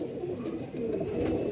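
A purchased pigeon coos in a low, soft murmur close by, with faint background noise and no speech.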